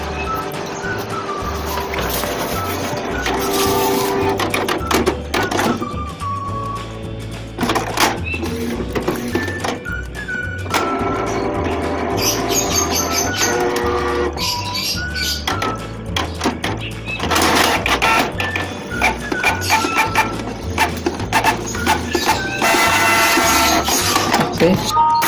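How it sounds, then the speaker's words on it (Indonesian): A Canon IP2770 inkjet printer prints a page, with repeated mechanical whirring, clicking and feed motor passes lasting throughout at close range, briefly pausing between passes. "Nanti printer akan ngeprint satu kali lagi."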